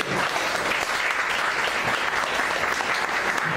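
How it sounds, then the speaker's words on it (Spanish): Applause from a church congregation during a Spanish-language sermon, a dense, steady wash of many hands clapping at full strength throughout with no pause. "Den una ofrenda de palmas a Dios"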